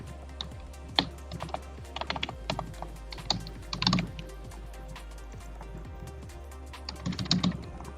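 Clicky computer keyboard typing in bursts of rapid keystrokes separated by pauses, close and distinct over a low steady hum, while entering text during a PHP database tutorial.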